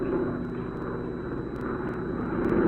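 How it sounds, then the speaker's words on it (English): A propeller airplane drones overhead as a radio drama sound effect, a steady, fairly loud engine hum with a low throbbing tone throughout. "Helen, it's just an airplane"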